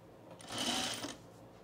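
A sewing machine stitches a contrast panel on a men's Arbor shirt in one short, steady whirring burst lasting under a second, fairly close, with no talking.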